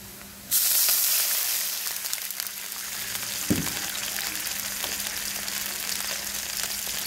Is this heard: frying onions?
yes